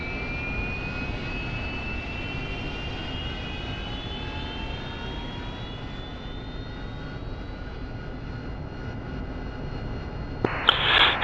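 A jet aircraft takes off from an LHA amphibious assault ship in the DCS flight simulator game, a loud, steady engine roar with rising whining tones that ends in a brief louder burst.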